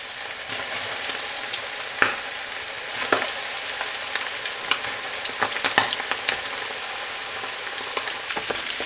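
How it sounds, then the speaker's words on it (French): Chicken pieces deep-fry in hot oil for a Sichuan chili chicken dish, giving a constant close sizzle and crackle with scattered sharp pops and spits throughout and no talking. "On a vérifié la température de l'huile et on est parti pour la friture"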